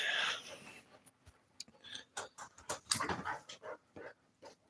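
Several dogs, restless after too little exercise, bark, yip and whimper in uneven bursts nearby, with scuffling between the calls and no talk.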